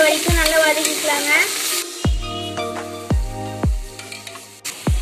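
Ginger garlic paste and green chillies sauté in oil for a vegetable pasta made in a pressure cooker. A loud sizzle is broken by several ringing spatula clangs against the pan.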